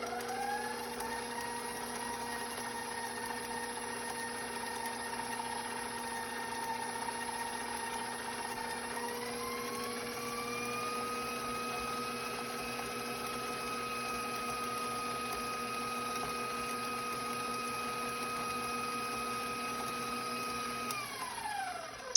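A stand mixer churns vegan chocolate chip cookie dough with a steady electric motor whine and hum, its pitch shifting upward partway through as the speed changes, then settling back, continuous and moderately quiet without voices.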